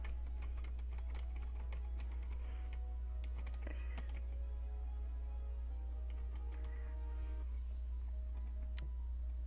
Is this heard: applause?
no